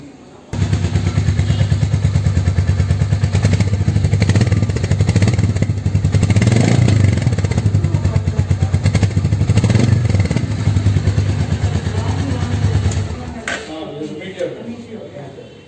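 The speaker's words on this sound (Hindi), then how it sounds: "इसका मैं आपको एग्जॉस्ट साउंड भी सुनाता हूँ" A Royal Enfield Meteor 350 single-cylinder motorcycle exhaust thumps steadily at idle, rising briefly in a couple of throttle blips before cutting off; close and loud.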